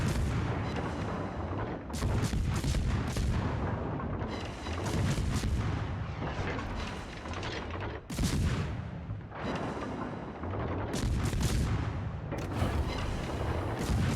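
Secondary guns on a warship in a naval combat video game fire in a rapid, continuous barrage, loud bursts of booming shots stacking into repeated waves over the whole stretch with hardly a break.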